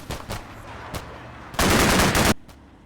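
Heavy machine gun fire from Russian fire teams in Combat Mission Cold War: a few spaced single shots, then a loud sustained burst lasting under a second, with a faint voice beneath.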